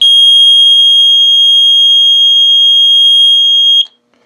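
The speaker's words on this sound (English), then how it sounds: "And a nice loud buzzer to wake you out of a dead sleep." A boat's bilge alarm buzzer sounds as a loud, steady, piercing electronic tone held for almost four seconds, then cuts off abruptly into silence.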